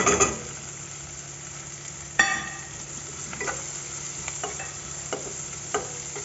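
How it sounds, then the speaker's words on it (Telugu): An egg cooking in a pan for egg semiya, a soft, quiet sizzle running throughout with a sharper scrape or clatter near the start and several light taps and stirs scattered through. "మనము ఇప్పుడు ఇందులోకి ఎగ్ కూడా వేసుకుందాము"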